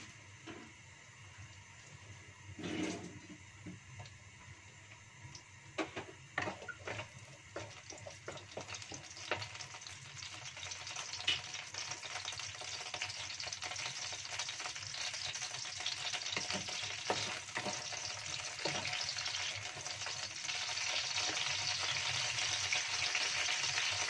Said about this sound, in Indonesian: cabai rawit goreng sebentar.